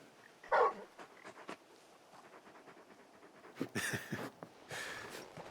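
The large dog Torgal from Final Fantasy XVI pants and whimpers softly, close by, with a few faint yips and rustling movement, and no talk.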